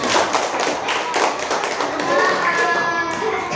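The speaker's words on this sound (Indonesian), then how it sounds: "Tepuk tangan buat kita semuanya." Schoolchildren in a primary classroom clap hands in a loud, busy patter of overlapping claps and thumps, close by, with children's voices chattering underneath and the clapping thinning out toward the end.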